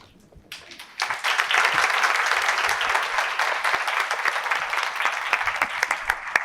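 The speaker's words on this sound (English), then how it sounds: "One more round of applause for our student." Applause from an audience breaks out suddenly and continues steadily, a dense wash of many hands clapping, fairly loud and sustained.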